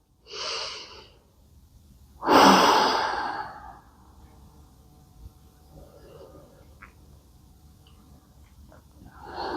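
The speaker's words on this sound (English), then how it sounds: "just take a moment to breathe deep into your belly" Deep belly breathing during a yoga session: a soft breath near the start, then one loud, long exhale that tapers away, followed by a quiet stretch with only faint small sounds and another breath beginning at the end.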